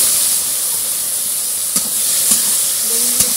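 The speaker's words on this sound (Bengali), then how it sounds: "তেল গরম হয়ে গেছে, এবার হলুদ নুন মাখানো বেগুন দিয়ে দেবো।" Eggplant pieces coated in turmeric and salt frying in hot mustard oil in a wok, giving a steady close sizzle with a few brief sharp pops and crackles.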